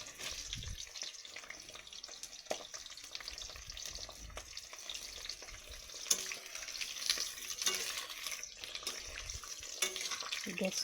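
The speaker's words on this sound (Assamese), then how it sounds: "ল' ফ্লেমত দি অলপ টাইম ভাজি ল'ম ভালদৰে" Chili pickle fries gently over a low gas flame, a soft, quiet sizzle with occasional stirring scrapes and faint watery crackle throughout.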